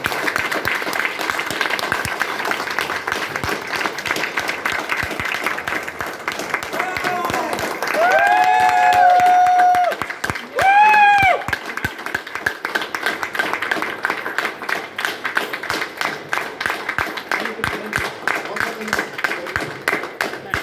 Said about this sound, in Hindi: मैं इनवाइट करता हूं आपके बीच में अपने जोरदार तालियों के साथ, सिटी के साथ, स्टैंडिंग ओवेशन के साथ